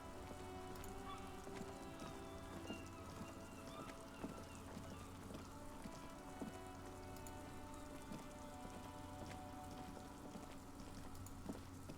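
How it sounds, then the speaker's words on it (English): Steady rain in the video game Disco Elysium patters and hisses on a surface without pause, with a faint tonal hum running underneath. "And the sound of rain, but the look of snow."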